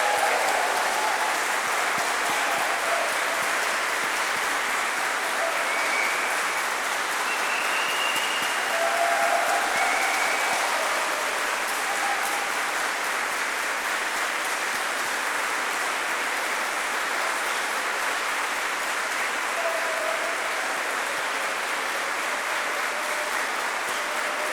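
A church audience gives sustained, dense applause for the composer Pärt Uusberg, steady and even throughout like heavy rain, with no talking over it.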